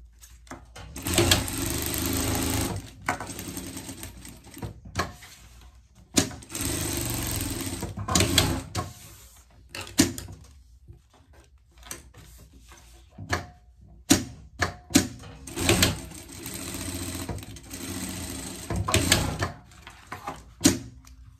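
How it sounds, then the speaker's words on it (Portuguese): Sewing machine stitching the seam of a rain cape, running in several long loud bursts separated by short pauses and clicks, with no talking. "E é só vir passar a costura aqui até embaixo, tá?"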